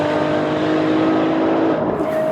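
A 2015 Ferrari LaFerrari, a V12 hybrid supercar with 950 combined horsepower, accelerates hard with a loud, continuous, close engine roar that climbs in pitch and then briefly shifts near the end.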